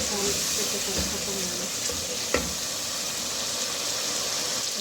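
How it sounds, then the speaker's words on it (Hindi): Masala with coriander frying in a pan, a steady close sizzle with faint stirring scrapes and one brief clink. "मसाला आप लोग देख रहे हैं हमारा भून चुका है"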